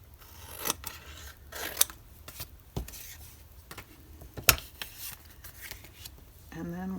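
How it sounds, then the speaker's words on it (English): Scissors snip through paper in a series of crisp, irregular cuts, close up, with light rustling between snips. "With the paper scissors, preferably."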